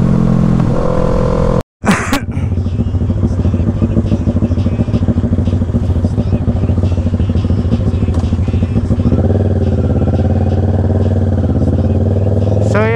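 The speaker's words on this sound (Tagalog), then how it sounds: "Puro sounds ng exhaust maririnig natin." Kawasaki ER6n motorcycle exhaust droning steadily while riding on a solo road trip in Tarlac, a loud, continuous engine note close to the microphone that rises in pitch toward the end, with wind buffeting.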